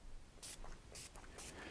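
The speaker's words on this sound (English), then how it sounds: "Simply spray this material onto the base" An ARTECH wax remover is sprayed onto a ski base in three short, soft hissing bursts, each about a fifth of a second, quiet and with no talking.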